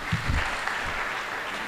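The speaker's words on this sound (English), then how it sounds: "One more round of applause for Mr. Wadekar." An audience claps at a synagogue's 160th anniversary celebration in Pune, a brief burst of dense applause from a hall crowd that stays steady to the end.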